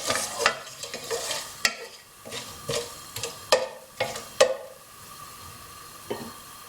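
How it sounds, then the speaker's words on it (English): Whole spices frying in a pan while being stirred for shemai, a Bangladeshi vermicelli pudding, giving a soft sizzle broken by a dozen sharp scrapes and taps of the spoon, close and fairly quiet. "I'm going to add our whole spices. Stir this around briefly"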